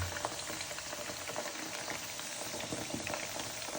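Chicken butterfly pieces fry in a pan of hot oil, a constant close bubbling sizzle with fine crackling pops throughout and no voice.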